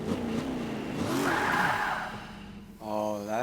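A Camaro Z28 in Forza Motorsport 5, a classic car whose engine revs and sweeps in pitch, with tire squeal and skidding under it and a second rising rev at the end.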